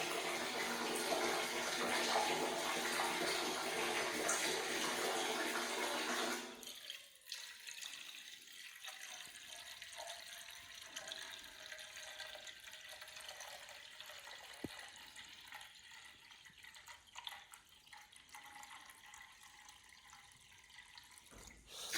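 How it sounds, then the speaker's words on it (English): Water from a solar-powered pump runs into a header tank setup, a steady splashing flow for several seconds that then drops to a quieter, thinner trickle continuing alone. "It's going back to a trickle."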